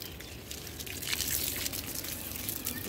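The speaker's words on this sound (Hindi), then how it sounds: "इधर भी डाल लो पानी थोड़ा बहुत" Water splashing and trickling steadily onto garden soil and plants, including okra, a continuous close hiss with scattered drips and spatters throughout.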